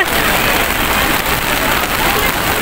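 Rain pouring down on an outdoor Cordillera celebration event, a loud, steady hiss of drops drumming on surfaces that continues without a break and masks any crowd sound.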